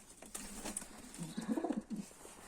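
Domestic pigeons coo in soft, low, rolling calls close by, several throaty notes in quick succession over a rustling, noisy loft background.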